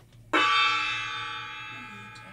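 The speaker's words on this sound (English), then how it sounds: "he has the honor now of ringing the gong on the Nolly News" A gong struck once during a school morning news broadcast, giving a bright metallic crash that rings and slowly fades over two seconds, alone without talk.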